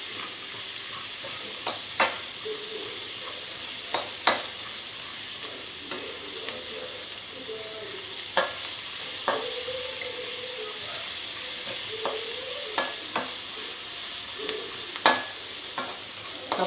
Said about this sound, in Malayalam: കപ്പലണ്ടി ഫ്രൈ ആയി കഴിയുമ്പോൾ തന്നെ ടപ്പെന്നൊരു ശബ്ദമൊക്കെ കേൾക്കും